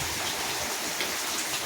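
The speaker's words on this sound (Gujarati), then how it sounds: "ખતરનાક વરસાદ પડી ગયો." Heavy night rain pours down in a steady, dense hiss, close and unbroken, with no voices over it.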